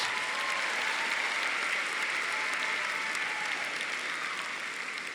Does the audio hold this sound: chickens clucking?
no